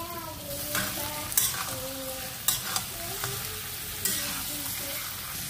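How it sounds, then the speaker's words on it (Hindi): Desi (country) chicken frying with fried onions and masala paste over a medium flame in a pan, a steady close sizzle broken by scraping stirs and several sharp utensil clinks, with no talking. "चिकन को आपको मीडियम फ्लेम में अच्छी तरह से फ्राई कर लेना है पहले।"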